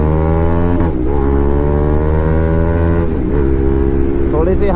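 A KTM RC 200 motorcycle pulls hard along a rough road, its engine loud and close with a strong harmonic drone that rises in pitch and dips briefly at each gear change.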